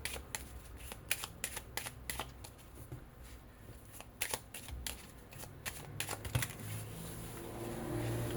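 Tarot cards shuffled by hand close up, a run of crisp riffling snaps and soft slides in irregular bursts, with no talk over them.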